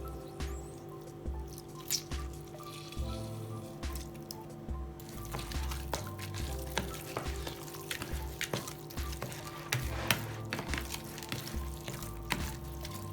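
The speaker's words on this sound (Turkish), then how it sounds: "Karıştırmaya devam ediyoruz." Stuffed pepper filling seasoned with black pepper and lemon juice being stirred in a pan, giving soft repeated wet squishes and light drips with a steady low background hum and no voices.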